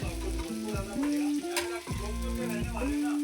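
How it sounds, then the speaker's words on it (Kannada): Fish frying in oil over a medium flame and being turned in the pan: a steady close sizzle runs throughout, with a sustained tonal, melodic sound layered over it. "ಮೀಡಿಯಮ್ ಫ್ಲೇಮಲ್ಲಿಟ್ಟು ಚೆನ್ನಾಗಿ ಫ್ರೈ ಮಾಡಿ. ಸೊ ನೀವು ನೋಡ್ಬೋದು, ನಾನು ಜಸ್ಟ್ ತಿರುಗಿಸ್ಬಿಡ್ತಾ ಇದ್ದೀನಿ."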